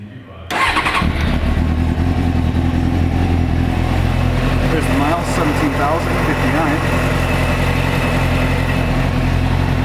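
A 2003 Suzuki GSX-R600 motorcycle cranks and fires up, then settles into a steady, loud idle close to the microphone.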